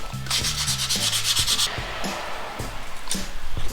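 Hand sanding of a motorcycle clutch lever or cover with 800-grit sandpaper, a close, steady raspy rubbing that runs throughout in quick back-and-forth strokes, with no talk.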